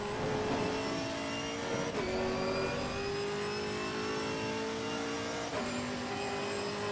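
A Chevrolet Camaro GT4.R race car at Monza in the racing game Assetto Corsa Competizione, its engine droning loudly and steadily as it climbs through the revs, with clear upshifts at two points along a straight.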